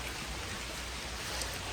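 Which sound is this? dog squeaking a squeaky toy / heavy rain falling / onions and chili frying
heavy rain falling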